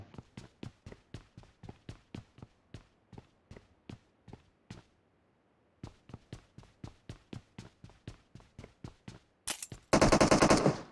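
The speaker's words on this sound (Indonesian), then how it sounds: "Malah nembak tuh musuhnya nembak balik nanti." Rapid automatic gunfire in PUBG Mobile, close sharp bursts of evenly spaced shots, a short silent gap, then more bursts ending in a loud dense blast of noise.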